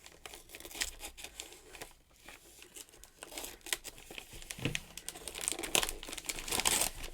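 Gift wrap printed with Disney designs crinkles and tears as a present is unwrapped by hand, with steady close rustling and a few louder rips toward the end, and no talking.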